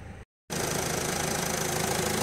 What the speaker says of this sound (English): This is the engine at idle tick over.